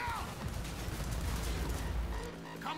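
Shotgun fire in the Cyberpunk 2077 video game: a loud, dense burst of blasts lasting a couple of seconds, then cutting off sharply.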